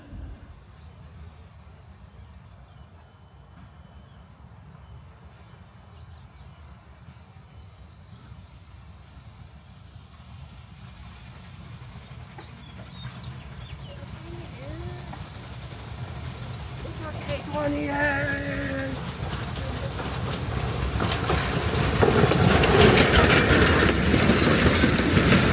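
Durango and Silverton narrow-gauge train Extra 476 approaching in the evening as a storm settles in, a rumble that builds steadily from faint to loud with clickety-clack and a brief whistle-like tone near the end.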